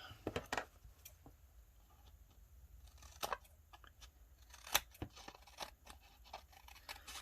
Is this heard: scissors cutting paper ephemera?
yes